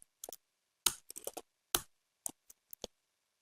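Typing on a computer keyboard into a web form, a sparse, irregular run of quiet close keystrokes with a few firmer presses and silent gaps, no talk.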